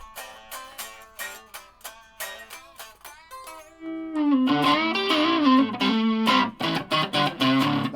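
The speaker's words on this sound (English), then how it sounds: "That's me using the reverb on the amp now." An electric guitar plays picked notes, then strummed chords on a Yamaha SC400 swell into a wet, echoing wash of amp reverb that lingers after each strum.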